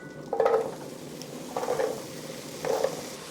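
Potatoes sauté in butter in a pan for corn soup, giving a low, steady sizzle under three separate stirring scrapes spaced about a second apart, heard up close.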